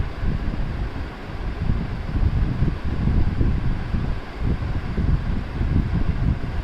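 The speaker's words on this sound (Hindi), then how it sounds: "पीछे आवाज़ आ रही थी बैकग्राउंड, आएगी आवाज़ पंखे की" An electric fan runs steadily in a room, a constant low whooshing rumble with no other sounds.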